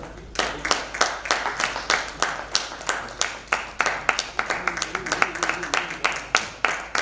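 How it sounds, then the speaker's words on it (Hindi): Applause at an event honoring a guest, with clear, separate claps in a steady, slightly uneven rhythm, close and crisp, as from a small group or a few people rather than a large crowd. "आपकी उन लगातार सम्मान भरी तालियों के साथ"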